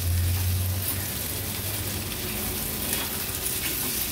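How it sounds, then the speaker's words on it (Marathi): Boiled potato vegetable sautéing in oil over a medium flame, a dense, even crackling sizzle that stays close and steady throughout, with a low hum fading early on and no talking. "सुंदर अशी ही भाजी आपल्याला तेलावर परतून घ्यायची आहे"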